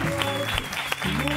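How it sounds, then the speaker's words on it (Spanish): An audience claps in a brief burst of applause, dense hand clapping with a voice faintly audible underneath. "¡Fuerte aplauso!"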